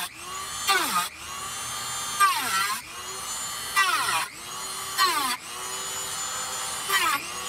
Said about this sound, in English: Let's use this cutoff wheel with the Dremel tool to make a crude circle around the box.